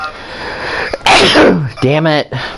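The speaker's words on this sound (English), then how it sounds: "No, that was a sneeze" One loud, close sneeze erupts with a breathy rush, and a man's brief spoken reaction follows right after.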